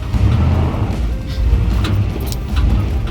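Off-road truck engine idling and rumbling steadily up close as it is shifted into reverse in 4 low, a continuous loud low drone with slight swells in level and no talk.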